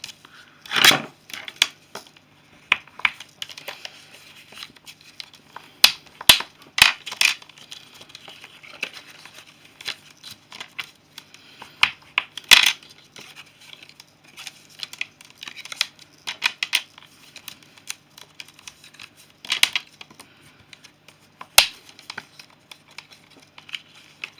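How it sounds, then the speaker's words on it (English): Craft card being folded and its score lines burnished while making an earring and ring presentation box: scattered, close crinkles, scrapes and sharp creasing clicks come in irregular bursts separated by quiet pauses. "So now I'm just going to fold and burnish everything."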